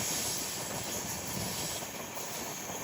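The Amrit Bharat Express, a long 22-coach train with a pantry car, runs between Thiruvananthapuram North and Charlapalli, giving a steady, muffled rolling rumble and hiss heard from inside a coach, with no talk.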